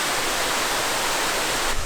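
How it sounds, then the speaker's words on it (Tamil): A waterfall near Pykara in Ooty roars as a steady, dense, close rush of water, filling the whole moment with constant broadband noise and no voices. "So this is the waterfalls."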